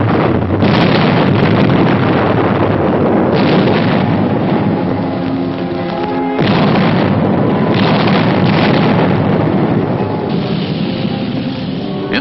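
Artillery fire during a gun duel in the 1944 invasion of Southern France, heard as a loud, continuous rumbling barrage of booms and roar that barely lets up for the whole stretch, with no voices.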